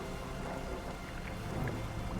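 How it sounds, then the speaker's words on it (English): Steady rumbling thunderstorm with rain washing over a boat at sea in the fishing video game Dredge, a continuous dense roar without distinct claps. "Thunder is looming above us."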